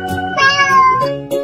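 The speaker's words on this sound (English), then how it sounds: "Cat." A cat meows in a children's learning game, one drawn-out, clear meow with a short follow-up note at the end, close and alone without any talk.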